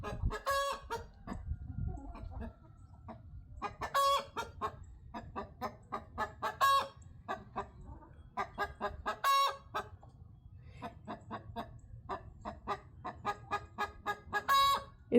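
A rooster crows repeatedly in short, thin bursts, interspersed with clucking from other fowl, fairly close with quiet gaps between calls.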